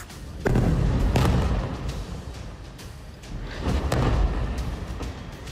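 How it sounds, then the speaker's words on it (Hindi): Explosions from a rocket attack on a darkened city in Gaza, two heavy booming blasts a few seconds apart with deep rumbling that lingers between them, loud and with no voices. "सिर्फ 8 सेकंड और 2 धमाके।"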